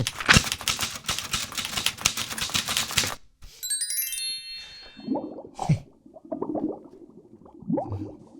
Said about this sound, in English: sometimes when you type something in a typewriter